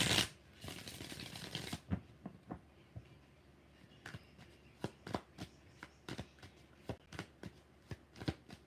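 Tarot cards being shuffled by hand, a quick papery riffle followed by a steady series of soft, close slaps and flicks at roughly half-second intervals, quiet and without talk.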